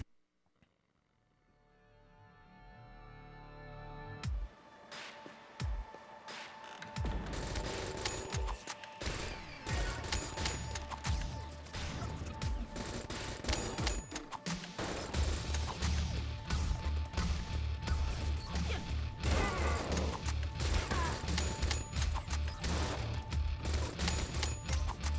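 Rapid gunfire in the rhythm shooter BPM: Bullets Per Minute, firing double-shot bursts of six instead of three, dense and loud over steady driving game music, with crashes and impacts mixed in after a quiet start.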